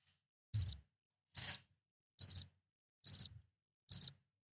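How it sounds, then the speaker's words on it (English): A cricket chirps five times in evenly spaced bursts, each a short, bright trill against near silence. "just hear crickets"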